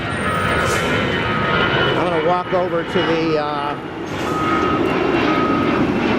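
An airplane passes overhead near a construction site in Playa del Rey, Los Angeles, where trucks haul away dirt. Its steady engine roar fills the background while someone talks close by.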